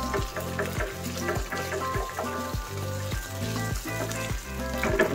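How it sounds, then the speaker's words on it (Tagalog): Tomato paste stirred into a sizzling seafood pasta sauce, with a steady fry hiss under rhythmic scraping strokes repeating about once a second, close and fairly loud. "maglalagay tayo ng isang kutsarang tomato paste. Pampakulay. Ayan, haluin lang natin."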